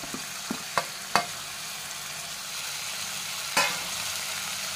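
Vegetables and tomato being sautéed in a pan for masala rice, a steady soft frying sizzle with a few sharp clicks of a spoon stirring against the pan, no talking.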